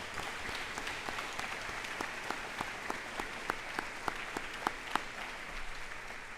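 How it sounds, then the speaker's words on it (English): Sparse audience applause for teachers at a junior high moving-on ceremony, a few distinct hand claps ringing out in a large, quiet room over a low background hum. "Let's give them a round of applause"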